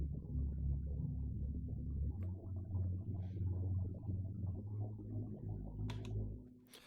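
808 bass in Ableton Live with mid-side EQ keeping the low end mono and centered, a deep booming bass line with a shifting note midway, faint clicks on top, heard alone and fairly quiet.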